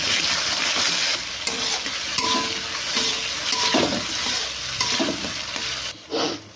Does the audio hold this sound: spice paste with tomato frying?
yes